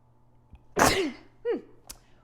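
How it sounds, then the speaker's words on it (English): One sharp, explosive sneeze up close in a quiet room, followed by a short voiced exhale and a faint click. "We're all recovering from a cold, so I'm about to sneeze."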